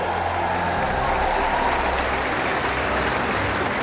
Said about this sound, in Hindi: ग्वालियर की तालियों के साथ स्वागत हो